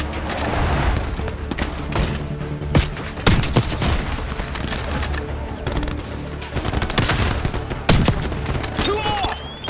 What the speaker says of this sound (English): Give him some cover fire, Case.